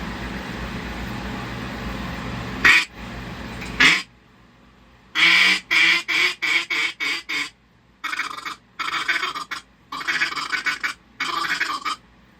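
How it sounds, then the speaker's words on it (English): An Echo duck call with an Echo insert is blown close and loud in a series of raspy quacks: a few single blasts, then a fast descending run of short quacks, then several more choppy bursts with silent gaps between them. "So that's a good sounding duck call right there."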